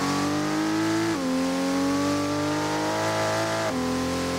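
A BMW M340i engine revs hard in a racing video game, a loud, continuous, harmonically rich drone with two quick pitch drops as it shifts gears.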